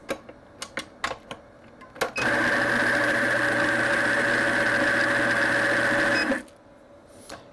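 A Compak PKE coffee grinder runs steadily for about four seconds, grinding a dose into a portafilter. The motor whir starts abruptly, holds loud and even, then cuts off, with a few light clicks before and after.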